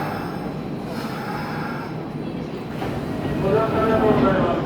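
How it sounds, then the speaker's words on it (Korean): A Hanshin train running through on the Kintetsu line rumbles into a station platform in Osaka, a steady low rolling roar that builds toward the end, with a voice talking over it. "네 지금 한신 킨테츠 직결 운행하는 한신 전철이 승강장으로 들어오고 있습니다."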